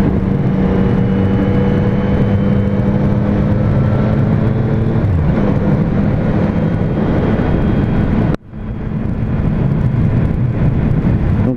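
Triumph Street Triple S 660 motorcycle engine running steadily while riding in fifth gear around 4000 rpm, a continuous loud drone with steady tonal hum and wind, briefly dipping near the end before resuming.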